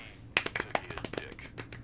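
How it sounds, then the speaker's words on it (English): A few people give a light, polite golf clap, sparse soft claps spaced irregularly, quiet and close, with no talking over them. "All right, golf clap."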